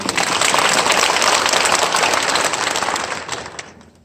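A church congregation applauds warmly for a sixty-member Zion choir, with dense, steady clapping that fills the room loudly and fades out near the end.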